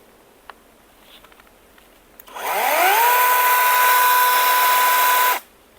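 A ProCraft PKA 45 battery-powered cordless saw starts up with a rising whine, then runs at a steady, loud, high-pitched motor drone for about three seconds before cutting off abruptly.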